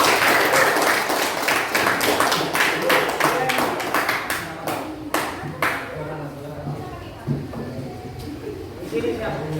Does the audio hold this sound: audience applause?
yes